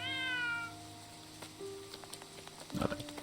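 A cat gives one drawn-out meow in the Triangle Strategy video game, followed by light rain patter and small scattered clicks, with no talk.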